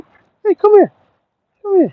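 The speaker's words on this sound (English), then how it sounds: "yeah, that was a dog just there." A dog close by gives a few short whimpering yelps in two bursts, while a person calls to it.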